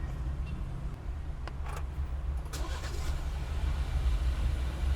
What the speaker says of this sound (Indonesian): ini dia suara dari mesin 2000 cc turbo 4 silinder